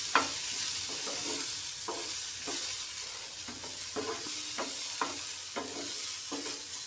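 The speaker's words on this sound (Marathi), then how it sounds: "मीठ घालून व्यवस्थित परतून घेऊया" Soaked peanuts with salt being stir-fried in a pan: a steady sizzle runs underneath while a spatula scrapes in regular strokes about twice a second, close and moderately quiet, with no voices.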